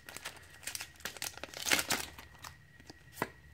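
Pokemon Sun and Moon three-card booster pack torn open: crisp foil crinkling and ripping in quick close bursts, loudest midway, with no talking.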